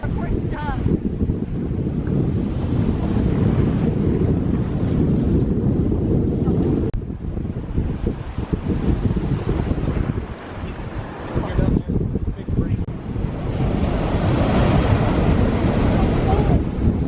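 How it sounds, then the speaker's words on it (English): Heavy wind buffets the microphone while surf roars steadily underneath, with waves surging in a continuous, loud wash. "There's some big waves."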